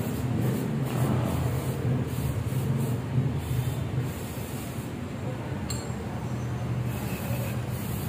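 Cleaner sprays steadily onto Honda Click 125 scooter parts during routine maintenance, a continuous close hiss with faint metallic clinks.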